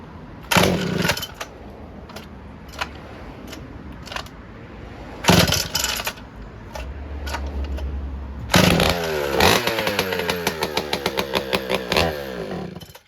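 A Pioneer P-51 chainsaw being pull-started: several sharp cord pulls and brief sputters, then the engine catches and runs with a rough, revving two-stroke buzz that pulses and fades near the end, close and loud.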